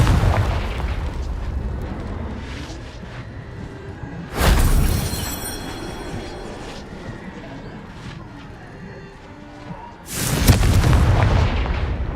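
Two loud booming blasts from the Confringo fire spell in the Hogwarts Legacy video game, spaced several seconds apart over a busy in-game background, with a voice speaking nearby.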